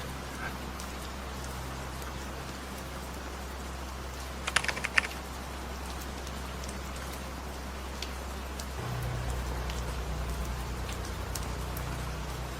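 Steady rain falls through the night as a constant, soft hiss of drops with no voices, thickening slightly toward the end.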